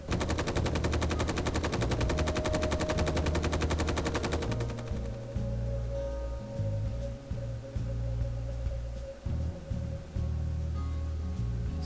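Rapid automatic gunfire in the video game Space Engineers, a dense continuous burst of machine-gun shots that carries on steadily and loudly throughout, with no voices over it.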